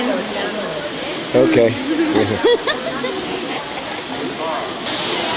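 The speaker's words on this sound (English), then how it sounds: "Oh, it's hailing. It's hailing. It's hailing." Heavy hail and rain pouring down outdoors, a loud steady roaring wash of noise throughout, with people speaking briefly over it.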